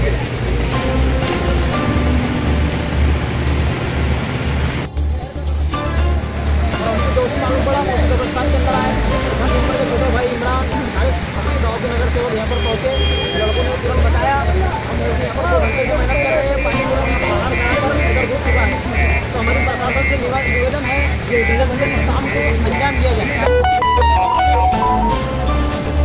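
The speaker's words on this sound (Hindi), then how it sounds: "सरा हुआ पानी कब्रिस्तान की दीवार से बाहर की तरफ आ रहा है" Floodwater pours through a Muslim cemetery, streaming over sunken graves and out past the cemetery wall, a steady loud rushing wash with a low rumble throughout, while people talk over it.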